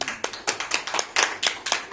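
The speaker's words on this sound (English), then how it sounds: "Can we just give him a huge round of applause?" Hands clap in applause for a conference moderator at a Eurasian IP systems session, with a sharp burst roughly every quarter second in a steady two-second run. The clapping sounds like a small audience and is moderately loud, with no voices over it.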